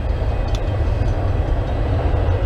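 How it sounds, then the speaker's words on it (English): A CN freight train rumbles past outdoors, a steady heavy low roar of railcars with faint rail clatter, continuous and fairly close throughout. "They still keep the trains going."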